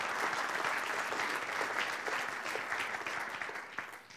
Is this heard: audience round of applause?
yes